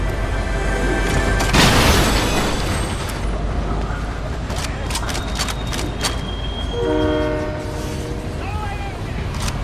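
A train rumbles past with a loud broadband roar, sounding its horn in a sustained tonal blast near the end, with brief bangs and clatter along the way.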